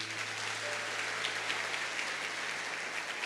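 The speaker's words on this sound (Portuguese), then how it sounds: "Salva de palmas para Jade." A church congregation applauds after a sermon moment, a soft, even patter of clapping held steady throughout, fairly distant and low in level.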